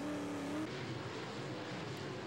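A late model race car at a 2003 American Late Model Series feature, running a CJ Rayburn chassis, brakes and gets back on the throttle through a corner, its engine note rising and falling loudly and steadily with no speech.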